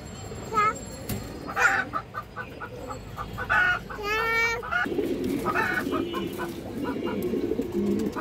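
Domestic pigeons, including a brown-throated female offered for sale, call close by in bursts of repeated cooing and throaty clucking notes over a steady background murmur.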